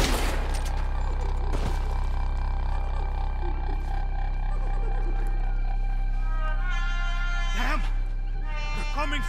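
Gunfire in Red Dead Redemption 2 during a chase, a few sharp shots cracking over a constant low rumble and a sustained tonal drone, followed by a cluster of quick bursts near the end.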